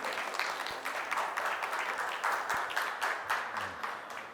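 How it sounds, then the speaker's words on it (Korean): Steady applause from a forum audience at a hotel lecture fills the whole stretch, a dense wash of many hands clapping at moderate distance. "여러분의 박수로 강연을 청해드리겠습니다."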